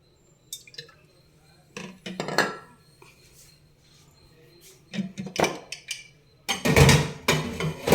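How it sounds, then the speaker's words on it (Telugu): Oil goes into a pan while cooking tepala chekka, scattered metallic clinks and clatters of the pan and utensils with brief liquid splashes, louder clanking toward the end, and a voice talking quietly in between. "ఇప్పుడు ఆయిల్ వేసుకొని"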